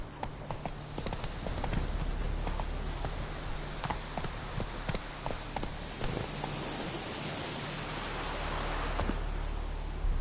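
Roach, the horse in The Witcher 3: Wild Hunt, gallops with a quick, steady clip-clop of hooves over a continuous outdoor wash of ambient noise.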